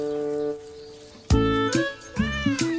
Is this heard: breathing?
no